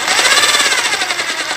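A Mailtank rotary hammer drill runs in impact mode, giving a loud, close, rapid hammering rattle with a steady mechanical pulse and no talking over it.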